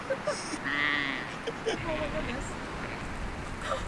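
Sheep at a campsite bleating, one long drawn-out bleat followed by shorter calls, close by, with people talking over them.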